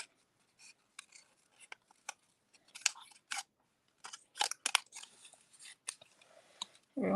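Scissors snip paper while fussy cutting around a stamped image for a card-making tic tac toe challenge, a run of sharp, close, irregular cuts with short pauses between them and no talking.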